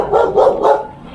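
A dog barks three times in quick succession, close and loud, followed by a softer trailing yelp.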